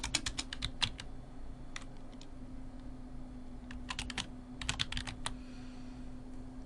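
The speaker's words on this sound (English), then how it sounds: "So you would type your team name." Someone types on a computer keyboard at close range, with quick irregular runs of key clicks separated by short pauses over a low steady hum.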